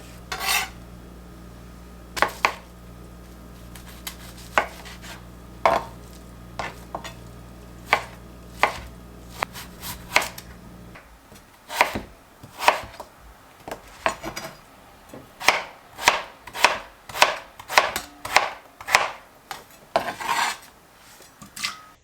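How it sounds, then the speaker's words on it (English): Knife trimming fat off corned beef on a cutting board. Sharp scraping and chopping strokes come close and distinct, scattered at first and then in a quicker, steady run of cuts. "I'm just gonna trim off the fat off the corned beef."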